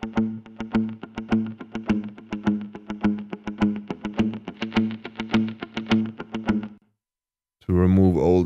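Electric guitar with a distortion effect plays a run of steady picked notes for about seven seconds, bright and gritty, then stops briefly before a voice begins talking.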